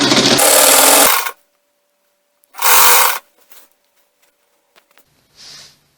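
Sewing machine stitching a blouse in two loud close bursts of rapid motor whirring, each about a second long, separated by quiet with small clicks and a faint hum.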